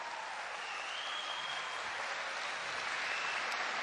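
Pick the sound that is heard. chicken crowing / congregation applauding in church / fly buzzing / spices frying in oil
congregation applauding in church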